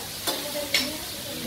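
Pad Thai being stirred and fried in a pan on a gas stove during a cooking session in Chiang Mai, Thailand: a steady low sizzle with two brief scraping stirs, no talking.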